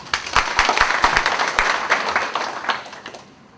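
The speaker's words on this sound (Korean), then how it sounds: "정현수 위원장님께 뜨거운 박수 부탁드리겠습니다" Applause from the audience at a labor union federation's extraordinary convention, greeting the chairman before his opening address: a short burst of sharp, scattered claps that swells quickly and then tapers away.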